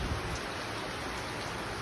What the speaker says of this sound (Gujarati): તમે જોઈ શકો વરસાદ એકદમ મસ્ત આવે છે પૂરમ ફાસ્ટ